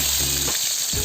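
Onions drop into hot oil with bay leaf for chicken biryani, a loud, close, continuous sizzle with faint low clatter from the pan beneath.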